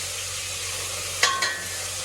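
Onion and tomato frying in hot oil with spices and curry leaves, a steady broadband sizzle with two brief scraping clinks of a spoon against the pan.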